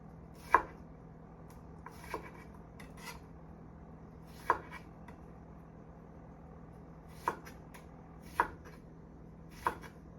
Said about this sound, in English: You've got a nice diced cucumber.